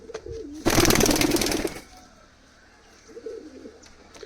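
Giribaz pigeons of the old Solaiman kagji type cooing in low, throaty phrases, broken by a loud rustling burst near the start, with soft coos returning afterward.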